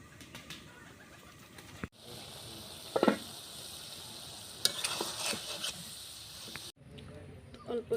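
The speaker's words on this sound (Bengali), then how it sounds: "ডিমগুলো আগে ভেজে নিচ্ছি।" Quail eggs frying in a pan in a rural kitchen give a soft sizzle broken by scraping and stirring clinks, with a couple of sharp breaks and faint birds somewhere in the background.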